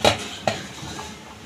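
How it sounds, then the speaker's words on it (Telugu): A lid clanks down onto a metal pot of dumplings steaming for Vinayaka Chavithi sweets, two sharp close knocks of metal on metal a moment apart, followed by a low lingering rattle with no one speaking. "ఇప్పుడు మూత పెట్టేసుకుందారు."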